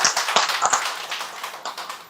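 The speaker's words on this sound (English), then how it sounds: "definitely give a round of applause to this team" A room of colleagues claps for a project team, a dense, steady patter of many hands with no talking over it.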